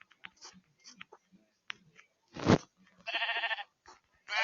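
Sheep in the Minecraft video game bleat in short, bright, buzzy calls. Two prominent bleats stand out among faint clicks and soft game sounds.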